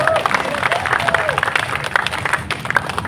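A congregation at a parish prayer meeting claps in a dense, sustained round of applause, with some crowd murmur and a voice audible under the clapping.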